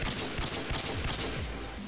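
Rapid gunfire with explosive bullets in the PC game Modern Warfare 2, a dense, steady burst of overlapping shots filling the whole short stretch at moderate volume.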